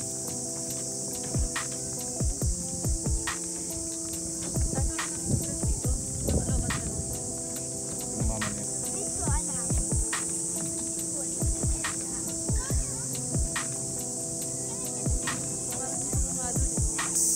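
Crickets in a park in Funabashi, Chiba, Japan keep up a steady, high, continuous chirring while nearby footsteps and low sounds thud irregularly and a voice speaks.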